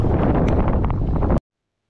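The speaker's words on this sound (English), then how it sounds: "Wind's going nuts right now" Strong gusty wind battering the microphone on a fishing boat out on the rough Gulf of Mexico, a loud, dense rumble that cuts off abruptly after about a second and a half.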